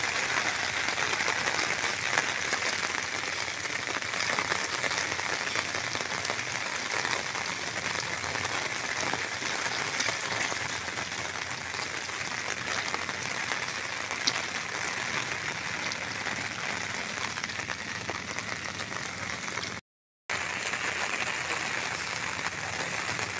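Heavy typhoon rain from Bebinca pours steadily on Burias Island, a dense, loud, unbroken hiss of downpour on surfaces that continues almost alone for the whole stretch, with one brief dropout near the end.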